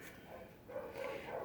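Small dogs bark and yip at a distance, faint and muffled indoors, in a short continuous burst.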